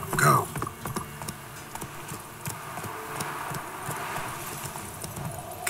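Roach, a horse in The Witcher 3, trots with a steady clip-clop of hooves close by, accompanied by a faint jingle of tack throughout.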